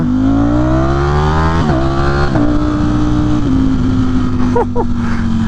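A Ducati Streetfighter V4 motorcycle accelerates hard, its loud, close engine note rising steadily in pitch through the gears, with brief dips at each shift and no pause between them.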